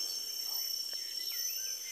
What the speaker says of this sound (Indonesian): kalau ada suara yang mungkin ada suara-suara seperti tonggeret kalau kata orang Sundanya atau yang lainnya